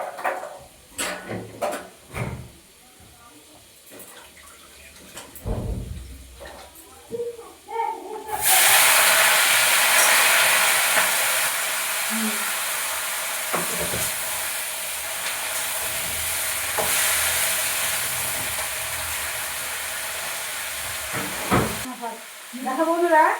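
Fried cabbage and potato hitting a pan, sudden loud hissing surge that settles into a steady sizzle after some earlier clatter and handling sounds, ending with a few knocks.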